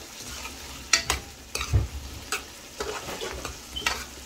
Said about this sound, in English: here's my aloo curry. I just bunched it. It's frying up a little bit.